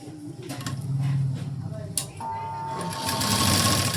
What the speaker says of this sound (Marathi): इथे एक कडेला आपण शिलाई देऊन घेऊया